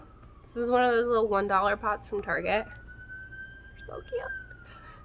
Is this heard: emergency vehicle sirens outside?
yes